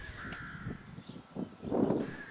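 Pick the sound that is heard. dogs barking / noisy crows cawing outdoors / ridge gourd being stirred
noisy crows cawing outdoors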